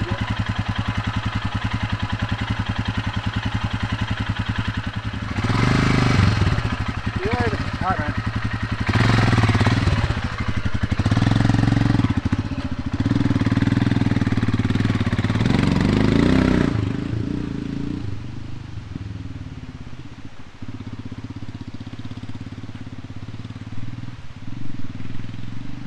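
A motorcycle starts up and pulls away at a moto campsite, the engine running loud and close with a few throttle surges before it fades into the distance, leaving quiet background.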